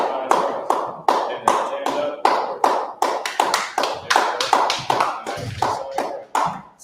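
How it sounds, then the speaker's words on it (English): Audience applause at a Lashawan Qadash class in honor of the pastor, a run of sharp, closely spaced hand claps from a nearby group, steady and energetic throughout with no pauses. "clap it up for the Lord's Pastor"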